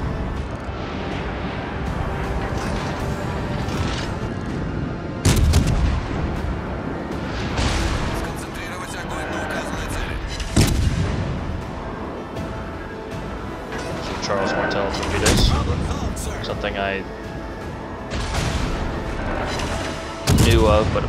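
Naval guns firing in the World of Warships game during a high-tier light cruiser battle: repeated booming salvos at steady intervals over continuous battle noise and music, loud and close, with a voice talking over it.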